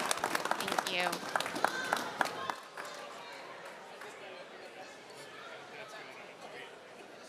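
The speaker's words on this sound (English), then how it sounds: "Please give our panelists a round of applause." An audience at a COP29 climate action panel dialogue applauds the panelists, clapping loudly for about two and a half seconds before it drops to a quiet room murmur, while a voice speaks over the clapping.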